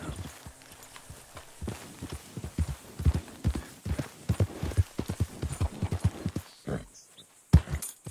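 Horse hooves clip-clop at a steady walking pace in Red Dead Redemption 2. The hoofbeats are close and distinct, then pause briefly before resuming near the end.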